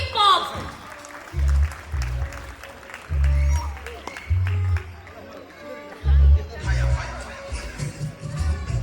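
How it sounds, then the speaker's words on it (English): Guests at a wedding reception applaud and cheer after a bottle pops, clapping scattered among loud bursts of laughter, chatter and whoops close by, the lively crowd noise rising and falling in waves. "Can we all have a big round of applause for this lovely quick pop?"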